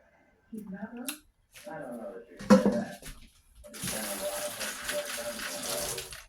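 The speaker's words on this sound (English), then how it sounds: "Rinse my hand off because I put it in my mouth." A hand rinsed under a running kitchen tap after tasting blueberry cobbler batter: someone talks first, then water gushes steadily and close for a few seconds.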